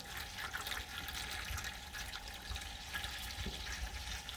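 Water pours from a container into the pan around a banana pudding cheesecake to make an oven water bath, giving a faint, steady trickle that goes on the whole time without a break.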